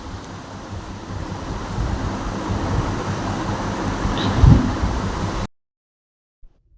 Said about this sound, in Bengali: আকাশে একটু হাওয়া দিচ্ছে